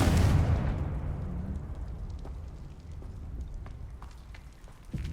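A Confringo blasting spell in the Hogwarts Legacy game sets off a loud explosive burst at the start, then a long rumbling decay with scattered crackling pops, ending in a sharper thump.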